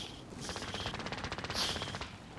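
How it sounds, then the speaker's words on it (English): Rapid automatic gunfire in a video game rattles off in a fast, even burst of about two seconds, moderately loud and alone, with no talk over it. "he's getting shot at now"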